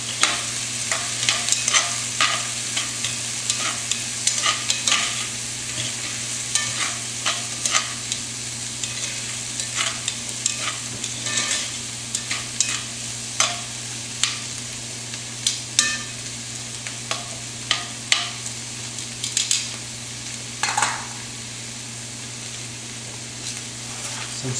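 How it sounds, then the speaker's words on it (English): Chopped garlic cooking with mirepoix in a pan during a braise gives a soft, steady sizzle under a constant low hum, broken by frequent light clicks and scrapes of stirring throughout. "Now we're going to add our chopped garlic. Let that cook in with our mirepoix."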